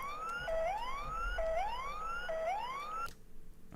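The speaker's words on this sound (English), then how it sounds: "low RPM warning. Completely normal, guys." Low RPM warning tone in the X-Plane 12 FlightFactor B777-300ER cockpit, a repeating rising electronic whoop cycling about three times at a steady rhythm before cutting off abruptly.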